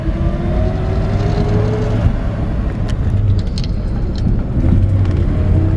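A 1955 Chevrolet 3100 truck drives steadily, its engine a continuous low rumble with road and wind noise throughout, no talk over it.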